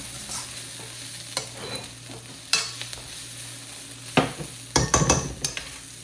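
Noodles being stirred in a pan with black pepper, Szechuan chutney and tomato sauce, giving a soft steady sizzle broken by several sharp scraping stirs and clinks, louder toward the end.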